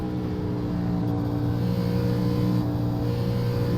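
NASCAR Gen 4 stock car in iRacing at Indianapolis, engine holding a loud, steady high drone with strong harmonic bands throughout, close and continuous with no talk.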